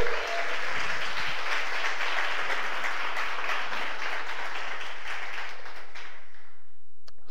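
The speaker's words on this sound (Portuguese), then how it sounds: "Você pode aplaudir o nome do Senhor?" A church congregation applauds together in sustained, dense clapping that fills the room for about six seconds, then thins out and stops.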